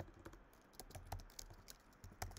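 Someone types a project title on a computer keyboard in the WeVideo editor: a quick, close, steady patter of key taps with no talking.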